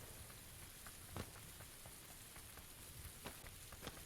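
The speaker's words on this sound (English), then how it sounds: "Welcome to Sanok in the rain." Rain in PUBG on the jungle map Sanhok, falling in a dense, even hiss on surfaces with a few louder drops standing out, quiet and steady with no voices.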